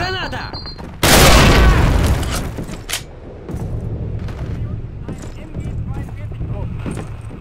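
Grenade explosions in the video game Call of Duty, a loud sudden blast followed by a long crackling rumble and debris, then scattered gunfire and shouting voices in the background.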